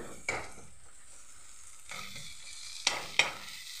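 Onions sautéing for a rohu fish curry with potatoes make a low, quiet sizzle, broken by a few sharp spatula scrapes and clinks spaced across the moment, close and without talk.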